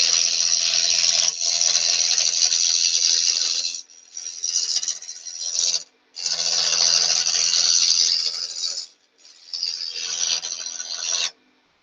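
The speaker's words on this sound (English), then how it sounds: "Might tell me I'm using my roughing gouge wrong." Roughing gouge cutting a spinning wooden bed post on a lathe, a loud steady rasping hiss in long passes broken by three brief pauses as the tool lifts off the wood.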